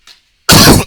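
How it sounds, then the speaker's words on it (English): A single harsh cough bursts out loudly and close, preceded by a short faint breathy catch of the throat. "A lot of coughing."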